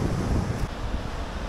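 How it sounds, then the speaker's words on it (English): Strong wind buffets the microphone on a black volcanic sand beach in Tenerife, a steady roaring rush with surf washing beneath it, loud and continuous throughout. "I'm trying to hide from the wind a little bit"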